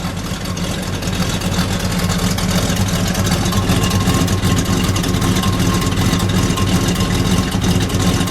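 A 1965 Chevrolet Chevelle SS convertible's 327 V8 idling close by, a loud, steady, low rumble that continues evenly throughout without speech.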